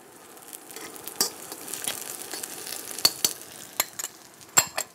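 Onions and Thai curry paste fry in a wok for a shrimp dish, giving a soft, steady sizzle broken by scattered sharp clicks and scrapes of stirring, close and fairly quiet.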